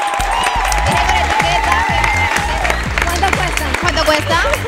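A lively audience at a comedy stage show claps and cheers loudly, with shouts and chatter rising through the continuous ovation.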